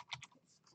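Typing on a computer keyboard during a Unity 2D tutorial. A brief, quiet run of a few close keystrokes with no voice.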